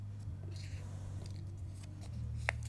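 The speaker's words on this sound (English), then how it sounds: "So I cut out 2 black wings." Scissors snipping through black paper to cut out bat wings for a French fry box craft, quiet close cuts over a low steady hum, with one sharper snip near the end.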